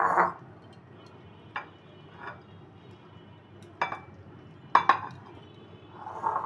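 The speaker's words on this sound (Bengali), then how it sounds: "এখন এই গ্রেট করা আমগুলি অন্য একটা বাটিতে নিয়ে নিব।" Grated raw mango being moved into another bowl for a pickle, with sparse clinks and taps of a spoon against bowls over a quiet background, no talk.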